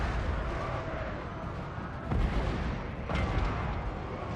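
Artillery cannons firing in a Total War battle, a dense rumbling barrage with two heavier booms standing out over the continuous roar of combat.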